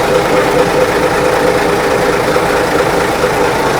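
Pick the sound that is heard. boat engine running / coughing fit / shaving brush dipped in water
boat engine running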